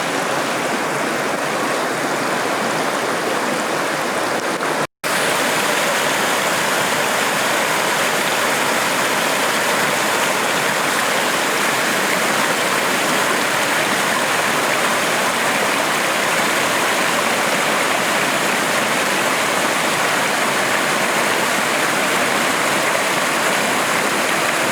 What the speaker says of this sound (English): Some of these built like a runoff for all the water just up there coming down